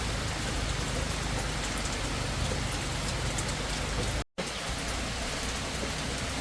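Heavy rain pours steadily on a farm during a downpour, a dense, even hiss that fills the whole stretch with no voices, broken only by a sudden cut to near silence for a moment before the rain resumes.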